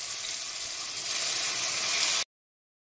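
Taro flowers dropped into a hot tempering of garlic, chili and tomato, producing a loud, dense sizzle that swells slightly and then stops abruptly.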